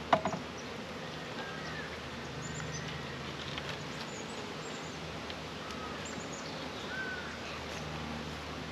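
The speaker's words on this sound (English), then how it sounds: "I still have a lot of bees on it" Honey bees swarming around a swarm trap during a cut-out, a steady soft buzzing hum of many insects spread across the scene, fairly faint and continuous with a brief knock near the start.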